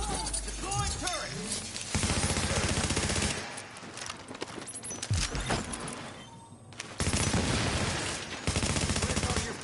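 A deployed turret fires in the video game The Division, with loud stretches of rapid automatic fire separated by shorter gaps where a voice shouts and other noise of the fight comes through.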